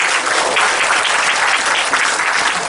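Audience of trainees at a workplace sexual harassment prevention training applauds on cue, a steady dense wash of clapping from many hands filling the whole stretch, fairly loud and without pause.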